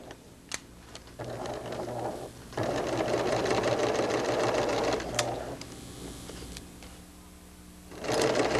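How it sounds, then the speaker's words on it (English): A sewing machine stitching in the ditch of a seam on fabric, a steady close whirring hum in sustained runs with short pauses and small clicks between them. "I will stitch very precisely in the ditch so it will catch the fabric on the underside."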